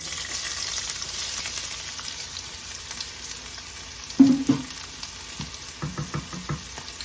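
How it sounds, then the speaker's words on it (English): Onions frying in hot oil in a pan for Jollof rice, a steady close sizzle throughout with a few louder crackles and stirring bursts in the second half; no talking. "the next thing to go to this oil is onions"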